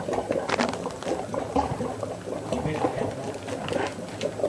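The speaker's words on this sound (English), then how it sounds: "Can't hear you when the water's running." Tap water runs in a kitchen, a steady splashing gush with patter and gurgle, moderately loud and close, while a voice murmurs faintly underneath.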